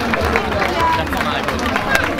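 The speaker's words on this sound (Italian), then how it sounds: "Grazie per l'applauso a Michael." Audience applause for a performer named Michael at a live music event, a steady wash of many hands clapping at even loudness, heard close with crowd murmur mixed in.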